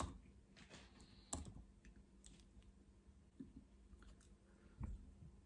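Quiet, irregular tapping of keys on a computer keyboard while entering text into a web browser, soft scattered clicks with a few sharper strokes and no speech.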